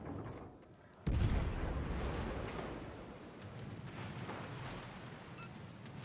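Sustained battle din of the German destroyer Schill's secondary guns in World of Warships: Legends, a sudden loud burst of overlapping gunfire that carries on as a dense rumbling barrage with scattered sharper reports.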